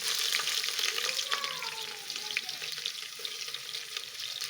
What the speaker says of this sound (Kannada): ಈಗ ಈರುಳ್ಳಿ ಸ್ವಲ್ಪ ಕೆಂಪು ಹುರ್ಕೊಳ್ಳೋಣ.